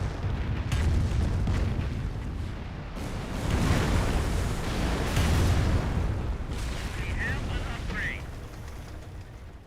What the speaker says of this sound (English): Another Calliope rocket barrage right on in.